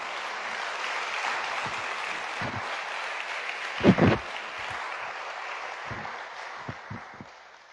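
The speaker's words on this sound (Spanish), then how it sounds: "Dale un aplauso al Señor porque Él es fiel." Congregation applauding during a Sunday church service, a sustained wash of clapping with a few louder thumps and knocks standing out midway.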